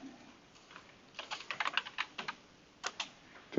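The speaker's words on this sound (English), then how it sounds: "type in our password" Keys on a computer keyboard tap out a password during a Mac OS X software install, a quick irregular burst of close, crisp clicks with short pauses between clusters.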